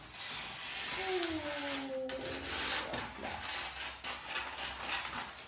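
Steady rasping of a nail file rubbing back and forth, continuous and close, with a brief whistling tone partway through.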